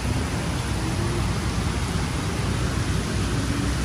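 Steady rain falling outdoors in New York, a loud even hiss of downpour filling the scene continuously with no voices.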